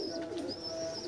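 Dhille pigeons cooing in a steady low murmur, with several birds overlapping close by and a faint higher chirp drifting above, no voices.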